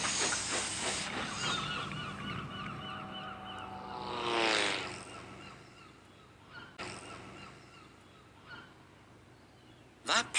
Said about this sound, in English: he puffed away in a cloud of steam